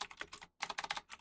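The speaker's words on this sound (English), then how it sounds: "I don't even know what I'm typing" Fast, busy typing on a computer keyboard, dense clattering keystrokes with a brief pause midway, close and fairly quiet in a home streaming setup.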